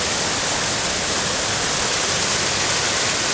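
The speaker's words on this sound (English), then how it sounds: "this is the next waterfall" Steady, loud roar of falling water from a waterfall on Benlister Falls near Lamlash on the Isle of Arran, a dense continuous rush with no pauses and no voices.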